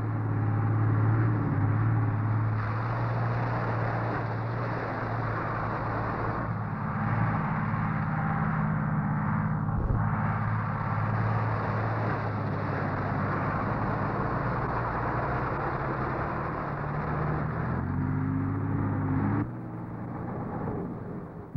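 A Bedford M Type 4x4 truck with up to a six-ton payload drives steadily, its engine a continuous broad rumble and drone, heard alone throughout with a slight drop near the end.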